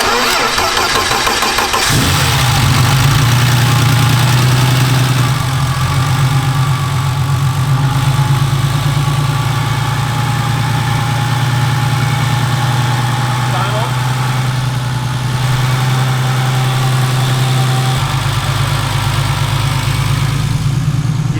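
A boosted BMW E36 engine cranks over, then catches and settles into a loud, steady idle with a deep low hum, close up, while people talk nearby.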